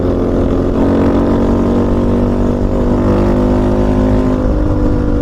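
Yamaha Raptor 700 ATV engine drones loud and steady under acceleration, a continuous close roar with a strong low hum and no pauses.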